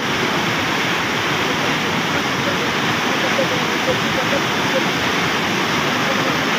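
Water rushes through a gate in heavy rain-season flow, a loud, steady, dense roar that fills the whole stretch without pause.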